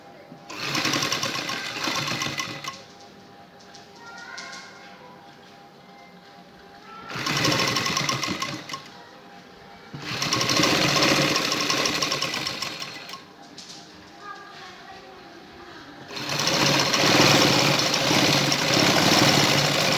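A sewing machine stitches a round dress neckline in four loud, close bursts of rapid mechanical whirring, separated by pauses.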